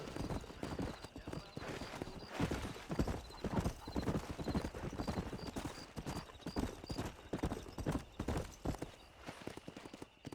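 Horse hooves gallop in a steady, rapid clip-clop rhythm through a Red Dead Redemption 2 ride, close and loud throughout, with occasional whinnies and faint voices in the background.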